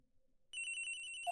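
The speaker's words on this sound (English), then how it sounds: "The ringing's coming from in here, sir." Cell phone ringing inside a locker in a video game, a short electronic ringtone with rapid repeated pulses starting after a quiet moment, clear and alone.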